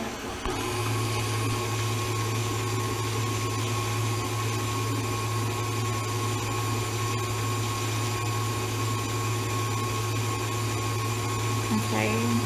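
An electric mixer runs nonstop through gluten-free vegan chocolate cake batter, a loud steady motor whine with a low hum and no pauses.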